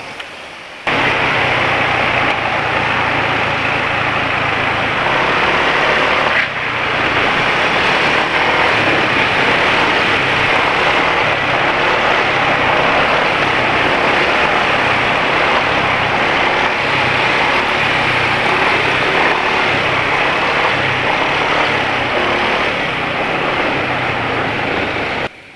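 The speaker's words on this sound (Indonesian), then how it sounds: "Semoga bisa dengar suara mesin kayak apa." A motorcycle engine running on Axson 10W40 oil runs continuously at a steady idle, with a close, constant mechanical drone and a brief dip near the start.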